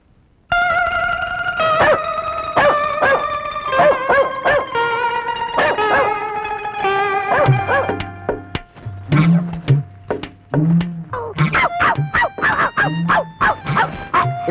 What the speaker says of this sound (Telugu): ఏంటి అల్సేషన్ కుక్కను కొన్నావా?